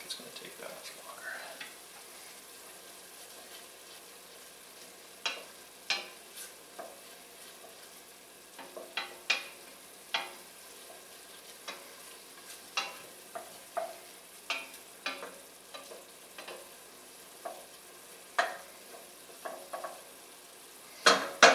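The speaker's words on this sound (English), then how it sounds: "it is really boiling, so I don't think it's going to take that much longer" Steady bubbling and sizzling from a sauce with softened vegetables boiling in a pan on the stove, with scattered clicks and taps of a spoon stirring, fairly close and moderate in volume.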